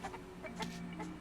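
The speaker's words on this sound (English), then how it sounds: "Hi, chickens." Chickens in the video game Okami HD give a few short, soft clucks in quick succession, faint and close together in a brief moment without speech.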